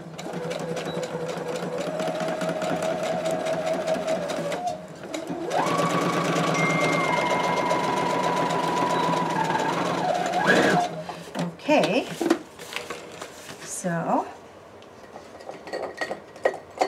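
A sewing machine stitches the side of a shabby chic fabric basket, its motor running in steady sustained runs with a short pause. Clinks and handling noises follow as the stitching ends.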